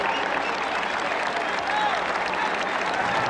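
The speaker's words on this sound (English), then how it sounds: "As they are introduced, of course, up goes a cheer at the sound of their name." Spectators lining a Chicago welcome-home parade route for Vietnam veterans cheer and clap in a steady wash of crowd noise, with a voice talking over it.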